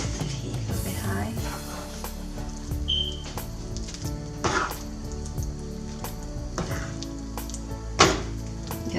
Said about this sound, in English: You have to stir it gently so you don't smash all the beans